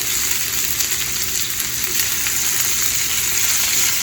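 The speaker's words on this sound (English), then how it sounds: "just keep turning them about every 30 seconds until they're good and cooked, well sauteed" Collard greens with onion and garlic sauté in a hot pan, giving a close, steady sizzle and crackle that runs on without pause and with no talking.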